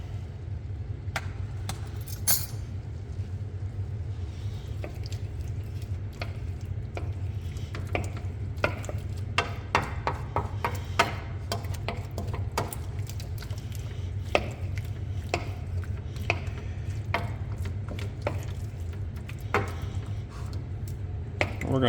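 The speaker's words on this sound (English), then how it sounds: "We're going to be stirring this a lot." A spoon stirs venison carne guisada in a pot, giving steady scraping and light clinks against the sides over a low, constant hum, with a faint sizzle and occasional talk.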